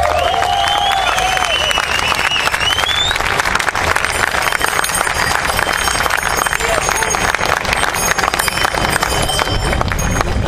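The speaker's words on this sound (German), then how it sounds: "nochmal einen riesen Applaus" Loud, sustained applause from a crowd at an outdoor vigil in Berlin, dense clapping with scattered cheers and whistles running steadily for about ten seconds.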